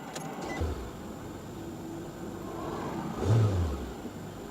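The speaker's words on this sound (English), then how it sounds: "Let's start the engine." 2013 Nissan Sentra engine starting, a soft crank and catch followed by a low, quiet idle, with a brief louder rev near the end.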